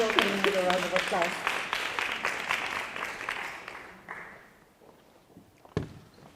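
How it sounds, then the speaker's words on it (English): Audience applause at a business talk event as a speaker is welcomed on stage, clapping that starts fairly loud alongside voices and fades out over several seconds, leaving a quiet room with a single sharp knock near the end. "Please welcome him with a round of applause."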